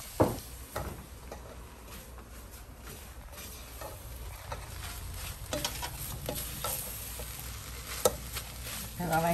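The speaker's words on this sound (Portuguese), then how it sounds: "Deixa eu mexer." Spoon stirring a creamy chicken filling for empadinhas in a pot, a steady scraping and sloshing with light clinks, fairly close and continuous with a faint sizzle underneath.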